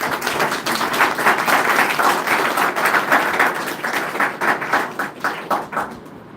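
Applause from an audience at a live talk with an orthopedic surgeon and physiotherapist, steady and dense for several seconds with individual claps fading toward the end.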